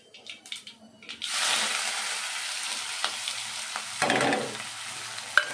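Onions, green chillies and curry leaves drop into hot oil with cumin and mustard seeds, a few light taps and then a continuous loud sizzle, with stirring scrapes and a sharper burst of hissing midway.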